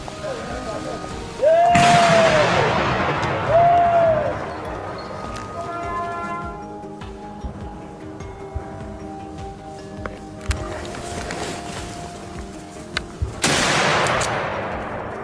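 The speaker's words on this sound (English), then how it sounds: "a rapid volley of shots rang out, taking down each one" Rapid volley of gunshots during a wild boar hunt in a forest, loud sharp bursts near the start and again near the end, with quieter stretches between.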